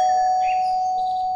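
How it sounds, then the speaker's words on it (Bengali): A doorbell rings with a single sustained electronic tone that holds steady and clear for over a second, with faint chirpy overtones, close and alone. "দরজার কলিং বেল বাজাতেই"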